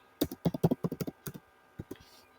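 Quick keystrokes on a computer keyboard while searching for an app inside the Canva design tool: a close, crisp burst of about ten taps, a short pause, then two more, with no talking.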